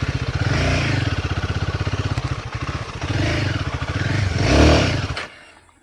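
A motorcycle labours along an off-road hill track near Araku Gali Konda, its engine thrumming loudly and steadily with pulsing revs and a surge near the end before it cuts out abruptly.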